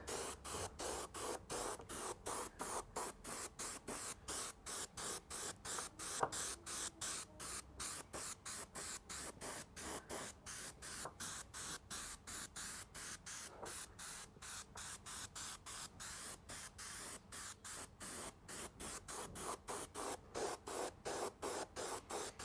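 An airbrush sprays white primer onto a scale model boat hull from a distance, its hiss coming in dozens of short, rapid, evenly spaced bursts, close and fairly loud with no talking.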